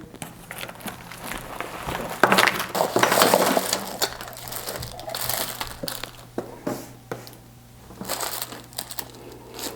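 Box and packaging of an AKASO V50 Pro Special Edition action camera being opened by hand, a series of close crinkling, rustling and crunching bursts of cardboard and plastic with short pauses, no talk.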